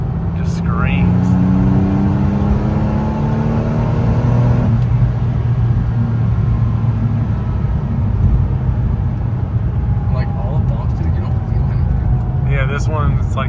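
A wrecked 1992 Porsche 964 Turbo's engine pulls hard, its pitch climbing steadily through the gears, loud and close from inside the cabin, with people talking over it.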